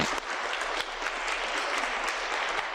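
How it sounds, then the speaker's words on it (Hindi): Live audience at a motivational interview session breaks into dense, continuous applause, a loud, even roar of many hands clapping with no talk over it. "इस बात पर तालियां होनी चाहिए।"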